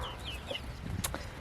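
Hens and roosters on a small farm give a few faint, brief clucks over a quiet outdoor background.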